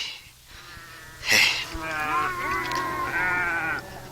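Sheep bleat repeatedly nearby, several drawn-out calls overlapping, with a soft rustle and faint background murmur.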